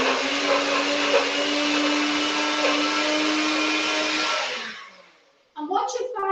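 A NutriBullet blender whirs loudly in a kitchen as it blends ingredients, a steady high motor whine that holds for several seconds then winds down, followed by a brief voice.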